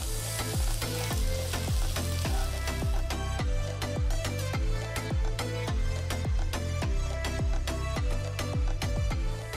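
Garlic, onion, ginger and scallions sizzle in a pan for a green mussel dish, a loud, dense frying hiss with rapid, regular scraping strokes of a spatula stirring throughout; no voices.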